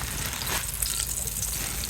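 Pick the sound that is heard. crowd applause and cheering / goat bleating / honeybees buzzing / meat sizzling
meat sizzling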